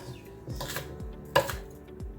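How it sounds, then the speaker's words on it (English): A knife dicing strips of bell pepper on a cutting board, four or five crisp, close chops in an uneven rhythm, with no voices. "And I'm just cutting some strips, and then here I'm just dicing those strips."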